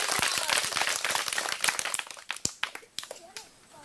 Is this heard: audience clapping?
yes